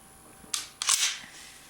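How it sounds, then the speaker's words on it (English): A brief mechanical click of an unloaded Beretta PX4 Storm pistol decocking, a sharp snap followed quickly by a slightly longer metallic clack, close and alone in a quiet room. "now that sound you heard was the gun decocking itself"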